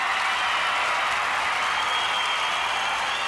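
A large studio crowd at Australian Gladiators applauds contestant Kathy, a dense, loud, continuous wash of clapping that holds steady throughout.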